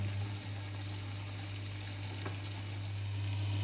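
Spicy garlic seafood bubbling and hissing in a covered pan, a steady close simmer with a faint low hum beneath, no talk.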